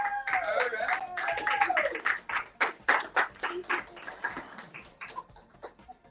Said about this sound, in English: Let's give her another hand.